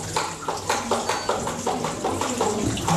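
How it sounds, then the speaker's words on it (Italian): Distilled water is poured over a wet collodion glass-plate negative during reinforcement, giving a steady close splashing wash with a rhythmic pulsing trickle throughout. "Mi metti un po' d'acqua distillata qui sopra?"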